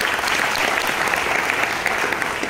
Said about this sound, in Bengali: ওয়াহ, ভেরি গুড, হাততালি হয়ে যায়।